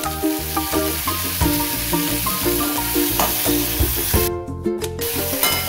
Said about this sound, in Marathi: आता हा टोमॅटो आणि कांदा हा व्यवस्थित परतून घ्यायचा आहे